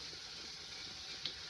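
Store-bought canned biscuits frying in hot grease, a faint steady sizzle with one small pop near the end, no voices.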